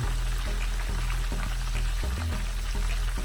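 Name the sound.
scotch egg with turkey sausage frying in a pan of oil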